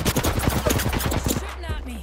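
Rapid automatic gunfire in the video game Apex Legends, a dense string of sharp shots firing for about a second and a half before cutting off, loud and close with faint voices underneath.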